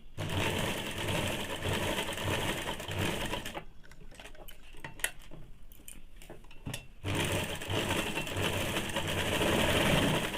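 Close and loud, a sewing machine double-stitches the darts of a two-piece Bombay cut blouse in a steady rapid whir, breaks off for a few seconds of quiet handling clicks, then runs again to the end.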